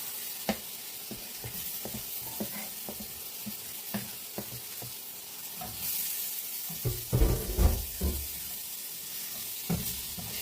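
Red tomatoes dropped into a pan of frying precooked lentils and spices, giving a steady sizzle with scattered pops, then a louder burst of hissing and stirring clatter partway through, close and without talk.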